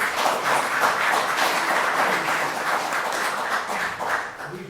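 A room at a city council meeting fills with steady applause, many hands clapping in a dense, even patter that holds for several seconds before easing slightly at the end.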